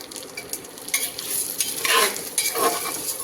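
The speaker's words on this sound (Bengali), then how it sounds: "ডালটাকে একটুখানি ভেজে নেব" Red masoor lentils fry in a pan with onion and garlic, a close, steady sizzle broken by scraping stirs of a spoon against the metal.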